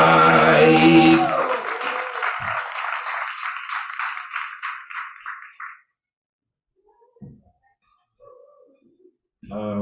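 An open-mic audience claps and whistles loudly as a performer comes to the stage. The applause fades away after about six seconds, followed by near silence and then a voice starting to speak.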